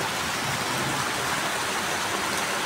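Heavy monsoon rain pours down in a steady, dense hiss that fills the whole scene evenly, with no voices.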